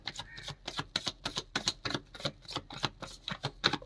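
A deck of cards riffled and shuffled for a Kali fortune-telling reading, a quick close run of rhythmic flapping snaps lasting a few seconds, fairly quiet, with no talk.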